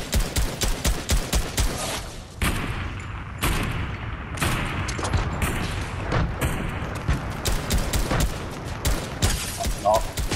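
Dense video game gunfire rattles in rapid bursts throughout, loud and close, with brief pauses and booming shots from a sniper game; voices talk faintly underneath.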